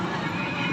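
A horse whinnies at a crowded rural fair, the neigh sounding close and loud over a steady din of crowd noise and hoof clatter.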